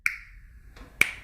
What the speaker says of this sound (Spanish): hagan el chasquido del dedo